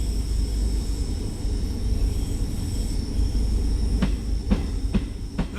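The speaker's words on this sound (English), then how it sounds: "The track joints don't sound quite right." A Class 314 electric multiple unit runs along the track near Glasgow Cathcart in Train Sim World 2, a steady rolling rumble with a faint whine, then several sharp, evenly spaced rail-joint clicks toward the end.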